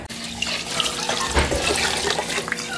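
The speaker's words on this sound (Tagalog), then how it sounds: "Dagdagan na rin natin ng tubig." Water pours steadily from a tap into a pot of chicken broth for arroz caldo, a continuous splashing, gurgling rush heard close up in a home kitchen.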